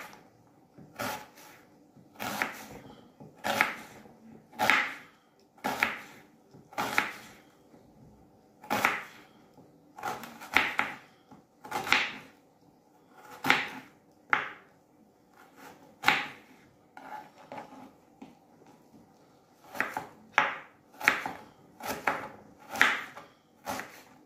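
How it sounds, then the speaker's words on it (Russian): An onion is diced into small cubes on a cutting board, with a series of crisp knife chops landing in uneven bursts and short pauses, close and fairly quiet with no talking. "теперь буду лук нарезать. Опять мелкими кусками"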